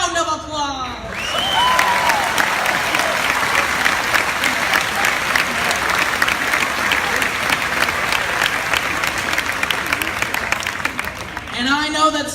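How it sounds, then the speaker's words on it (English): An audience applauds teachers at a school event, a steady roomful of clapping that swells quickly and holds for about ten seconds, with a voice heard briefly at the start and end. "And they all deserve a big round of applause."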